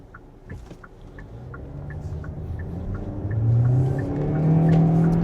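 A 2025 Kia Soul EX Soulmate Edition accelerates in sport mode, its engine drone climbing in pitch and growing louder partway through, with faint chirping in the background.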